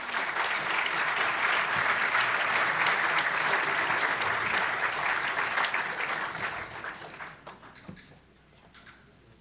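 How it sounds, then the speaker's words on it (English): Sustained audience applause at a German conference at Harvard, loud and dense for about seven seconds before thinning into scattered claps and fading out. "I think that's worth an extra applause"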